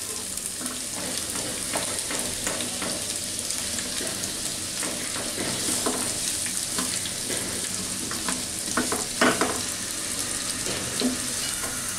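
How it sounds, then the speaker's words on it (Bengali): Chopped onions fry in hot oil in a pan, preparing a potol bhaji, with a steady, close crackling sizzle throughout and occasional scraping stirs, and no voices present. "তার মধ্যে আমি আমার পছন্দ মতো পেঁয়াজ কুচি করে নিছি, ওগুলাকে আমি একটু ভেজে নিব।"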